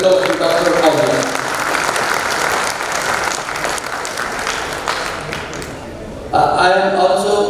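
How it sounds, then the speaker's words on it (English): A conference audience gives loud, sustained applause, with dense clapping that fills the space throughout and swells again near the end. "Friends, please welcome with a thunderous applause to Dr. Ahuja."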